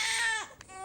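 A baby boy cries in a short, loud wail that breaks and drops in pitch, then resumes with a tremulous whimpering cry, heard close and alone.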